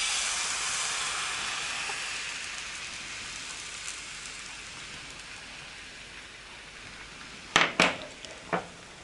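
Pancakes fry in a hot pan with a steady soft sizzle hissing throughout, with a few sharp clicks and pops near the end.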